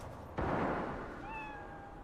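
A cat meows once in the video game Cyberpunk 2077, a short rising-then-falling cry following a sharp thump, faint and alone.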